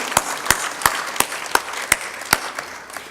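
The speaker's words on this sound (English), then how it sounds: "you really deserve to give yourselves a round of applause" A church congregation applauds at a Sunday sermon, a loose scattering of hand claps with several sharp, distinct strikes landing roughly every third of a second and a soft wash of clapping between them.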